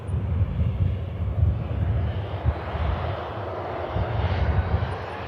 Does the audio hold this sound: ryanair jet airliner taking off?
yes